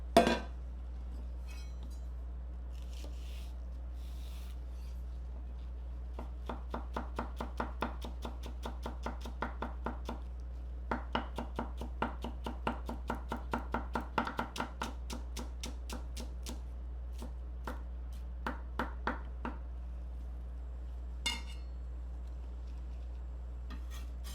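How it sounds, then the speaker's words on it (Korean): A knife chops green onion (daepa) on a cutting board for a Chinese-style bibim noodle sauce. Quick, rhythmic, close knocks come in steady bursts, then a few scattered strikes, with no talking. "대파 먼저 다져서 양념통에다 빼줄게요"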